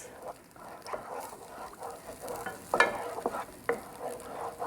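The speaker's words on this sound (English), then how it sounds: "Gradually stirring this." Spoon stirring garlic paste with milk in a pan, a soft continuous scraping and gentle sizzle with a few sharper utensil clicks, fairly quiet and close, no talk.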